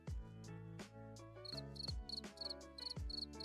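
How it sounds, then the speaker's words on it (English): A cricket chirping sound effect, played as a joke, repeats in quick rhythmic bursts of high chirps layered over tonal, thumping sounds, clear and close with no talking. "Crickets."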